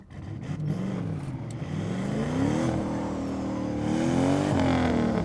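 A turbocharged 4.8-liter V8 in a BMW E36 drift car running about 10 psi of boost, its engine droning steadily and rising in pitch as it accelerates, loud and close throughout with no talk.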